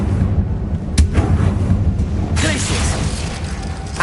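A Confringo blasting spell in Hogwarts Legacy, one sharp explosive crack followed a moment later by a louder booming burst that rolls out over steady background game noise.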